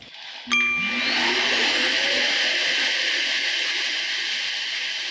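A corded household vacuum cleaner switches on at its lowest setting with a brief tonal click, then its motor swells into a steady, loud whining roar that continues close by.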